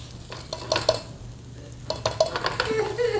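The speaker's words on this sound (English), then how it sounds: "Now, this is the Barley, the grain that's in it. You may notice I'm toasting it." Barley grain being toasted, stirred and scraped around a hot pan with a soft sizzle, irregular rustling and clinks close by.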